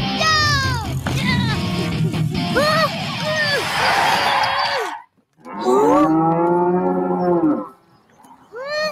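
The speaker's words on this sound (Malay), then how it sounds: "Lembu pula." A cow moos loudly and close by in long, drawn-out calls, one sustained low before a brief pause and another resonant moo after it.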